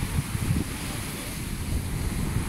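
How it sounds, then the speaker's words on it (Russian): Strong Mediterranean sea waves pound the shore at Belek after a storm, a continuous broad wash of surf mixed with gusting wind noise on the microphone, loud and steady without talk. "Но волны сильные."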